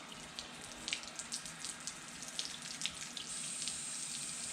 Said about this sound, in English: We got water coming through the engine now